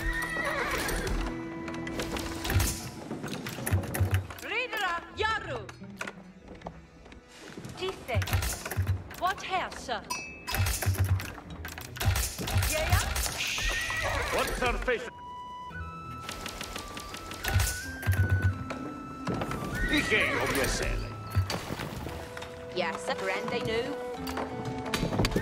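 Horses at a stable in the strategy game Age of Empires IV, with repeated neighs and whinnies and clip-clopping hooves amid game sound effects, mouse clicks and keyboard typing, while someone talks over it.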